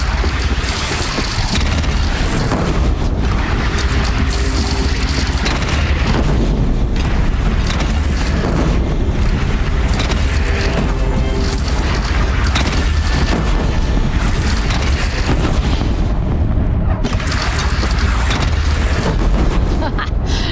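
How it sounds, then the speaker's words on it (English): Heavy cannon fire booms through a battle in the video game Horizon Zero Dawn, loud and continuous, with repeated blasts amid dense combat noise and a character's voice shouting under the din. "They only have one cannon!"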